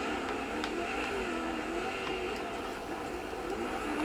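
In the racing video game Dirt 4, a truck engine drones and revs steadily at moderate volume, with shifting pitch as the vehicle speeds around the track.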